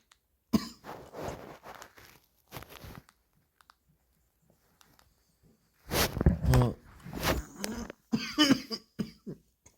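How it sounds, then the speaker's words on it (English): A person coughs indoors in a kitchen, with a few short coughs and throat clearing early on, then a louder burst of several close, harsh coughs after a quiet pause. "Sorry, cough."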